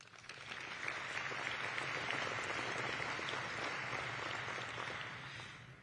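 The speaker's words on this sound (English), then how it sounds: "Please give a special round of applause for not only Tom Shafransky, but also his assistant, Deb Lepak" An audience at a scholar-athlete awards program claps in a sustained, dense round of applause that swells, holds steady and then tapers off.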